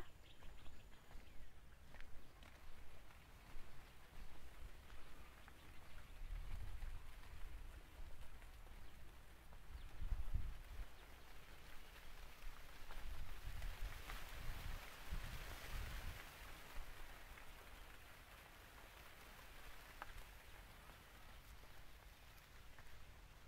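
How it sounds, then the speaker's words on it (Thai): Wind moving through the leaves of a bodhi tree, a steady broadband rustle that swells and eases in gusts, with a few low thumps, outdoors and without voices. "เสียงลมที่มันพัดผ่านใบโพ"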